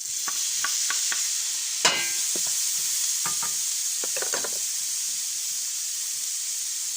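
Diced tomato drops into a pan of frying okra curry with a soft clatter. A steady hiss of sizzling oil continues while a utensil stirs and taps lightly against the pan.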